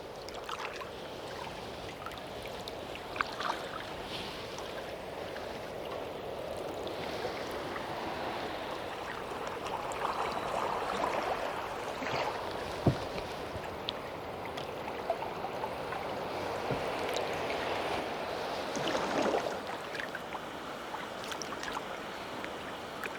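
Water laps and trickles around a canoe being paddled with a light wooden paddle, the dips of the blade and gentle splashes coming in a slow rhythm over a continuous outdoor wash.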